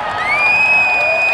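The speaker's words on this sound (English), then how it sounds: "And the crowd goes ecstatic." Spectators at a high school basketball game between Fenwick and St. Joseph's cheer, a brief loud burst of crowd noise with shrill whistles or whoops rising above it.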